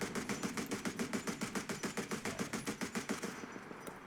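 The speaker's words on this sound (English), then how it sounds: "See if I can just fire it with the main gun, actually." Naval main gun on a Russian Project 1124 vessel in War Thunder firing a rapid, steady burst of about two dozen evenly spaced shots, moderately loud and close, with no voices over it.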